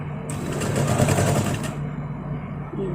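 A sewing machine stitches a princess-cut boat neck blouse, running in one continuous close, loud whirring burst with no talking.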